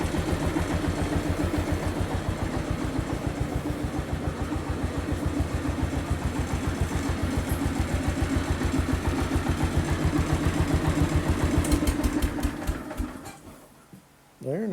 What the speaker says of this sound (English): I always like the sound of that one when she's idling. It kind of reminds me of some of the old John Deere two-cylinder tractors.